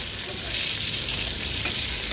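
Pointed gourd pieces fry in a pan with chili powder, giving a steady, close, loud sizzle with no pauses and no talking.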